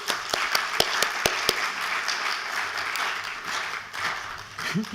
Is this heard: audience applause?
yes